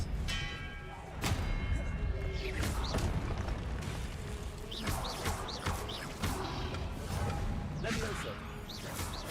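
Disarming spell casts in Hogwarts Legacy, with repeated whooshing bursts, thuds and crashing impacts over dense game combat noise, sustained loud action and no pauses.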